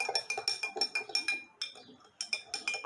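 A metal spoon stirs half a teaspoon of salt into water in a glass, clinking against the sides in a quick, steady rhythm with a brief pause, close and bright.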